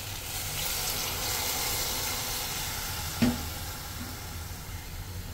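Braised fish maw with shiitake mushrooms simmering and being stirred in a pan after rice wine is added, a steady soft sizzle and bubbling with one brief clink of the utensil partway through, no talking.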